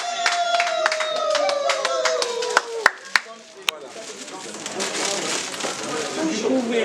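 Wedding guests at an official ceremony break into applause for the couple, starting with a few sharp, scattered claps under someone talking and swelling into a fuller round of clapping.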